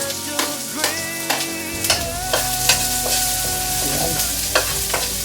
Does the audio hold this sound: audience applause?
no